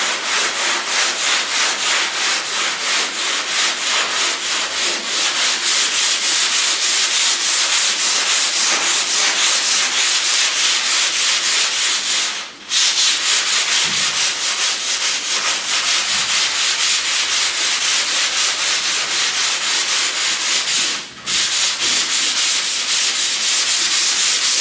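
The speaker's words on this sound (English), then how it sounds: "you just want to block this out like you would if this was filler, because that's all that polyester primer is" Polyester primer on a car panel is hand sanded with a flexible sanding block, giving a steady loud rhythmic rasp of back-and-forth strokes, close and continuous, with two brief pauses.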